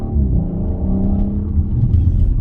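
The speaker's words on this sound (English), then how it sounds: "We'll start with that exhaust note." Audi RS5 exhaust grumbling from inside the car while driving, a deep, steady low rumble with a smooth engine drone rising slightly, close and continuous with no talk.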